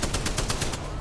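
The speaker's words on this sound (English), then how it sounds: "We're still getting sniped at" A rapid burst of gunfire from a multiplayer battle royale video game on the Broken Moon map, sounding as a fast string of sharp, evenly spaced shots that lasts about a second.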